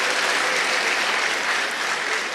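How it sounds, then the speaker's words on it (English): Audience applause following a prayer at an education sector event in Ghana, a dense, continuous round of clapping from a large crowd lasting a couple of seconds. "Let's give her a round of applause."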